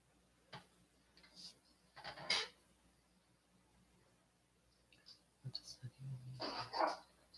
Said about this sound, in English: Dog fight in the background. You can hear that?